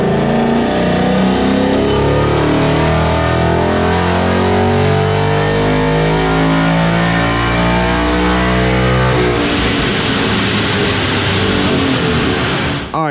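A supercharged 2018 Mustang GT with a Vortech supercharger revs hard on a dyno in sixth gear toward 7,500 RPM, a loud, close engine roar climbing steadily in pitch before cutting off sharply near the end.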